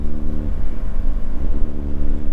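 Engine of a Yamaha R25 motorcycle revving and accelerating on an open road, a steady, loud, close mid-pitched drone with rising harmonic tones and no talk over it.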